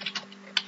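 Several quick keystrokes tap out on a computer keyboard, close and fairly quiet, in an irregular burst with short gaps and no voices.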